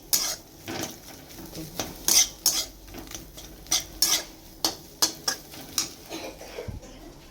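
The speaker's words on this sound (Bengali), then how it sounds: "জিরে গুঁড়ো ধনে গুঁড়ো এগুলো সব দিয়ে একটু কষাচ্ছি" A metal utensil scrapes and taps against a pan while potato is sautéed with cumin and coriander powder, with irregular clinks and scrapes over a faint sizzle.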